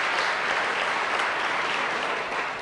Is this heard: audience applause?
yes